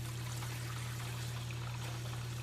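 Cold water streams steadily from a handheld jet on an ICEPOD cold plunge tub, a constant close rushing hiss over a low electrical hum.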